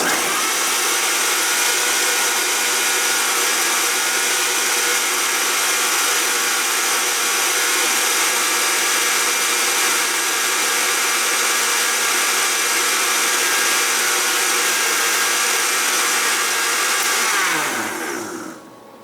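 A blender whirs at full speed mixing Soylent with milkshake mix, a loud, steady motor drone that holds constant before winding down and cutting off near the end.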